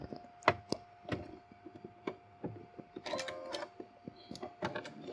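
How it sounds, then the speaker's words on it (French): Sewing machine topstitching a fabric hem in short bursts, with irregular mechanical clicks and taps between them, heard up close and fairly quiet. "Et donc là, j'ai plus qu'à faire ma surpiqûre."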